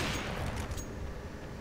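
Gunfire in the CS:GO first-person shooter, a burst of rapid shots at the start trailing into continuous loud in-game noise across the short moment.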